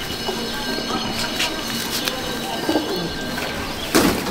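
Pigeons at a loft in Icchapur, North 24 Parganas, give off soft, intermittent coos and scattered wing flutters over a constant low background hum, with a louder burst of fluttering near the end.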